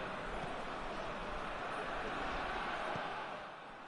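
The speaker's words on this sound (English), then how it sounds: "Well, the crowd clearly like what they just saw." Stadium crowd noise in a classic-clubs English Premier League football video game, a broad sustained roar of cheering that holds steady then eases slightly at the end.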